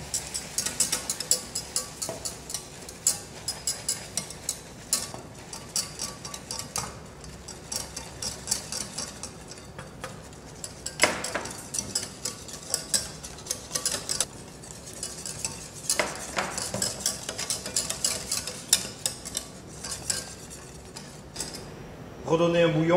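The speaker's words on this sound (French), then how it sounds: "Nous allons verser pour décuire le caramel petit à petit." Boiling cream poured little by little into blond caramel to thin it, with a utensil stirring and clinking against the pan in quick irregular scrapes and taps, close and steady throughout.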